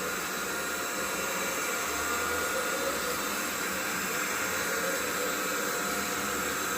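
A window-cleaning robot runs with a steady, even mechanical whir and a broad hiss, continuous at moderate volume, humming along without pause.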